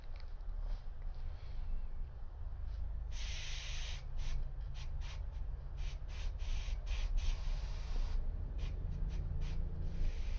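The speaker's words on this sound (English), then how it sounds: "So we pull back on the airbrush, and it's not as deep or not as dark." Airbrush hiss while painting a Darth Vader figure: a steady airy spray with a constant low hum of a compressor underneath, broken by repeated short bursts as the trigger is pulled and released, close and fairly loud.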